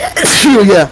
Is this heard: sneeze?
yes